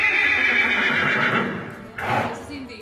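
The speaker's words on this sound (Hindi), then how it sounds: "ये मंजर है इर्तुगरुल के हॉर्स का, जो कि अपना अगला हिस्सा हवा में उठा के बड़े ही जोशीले अंदाज में आवाज निकालता है।" A horse rears and neighs loudly in a scene from the TV series Dirilis Ertugrul, a strong whinny rising then falling, followed by a second shorter neigh, with a voice talking over it.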